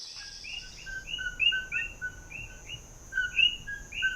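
Common coqui frogs (Eleutherodactylus coqui), a species native to Puerto Rico, call in a repeated chorus of short two-note chirps that overlap at moderate distance against a steady night-time background, with no voices.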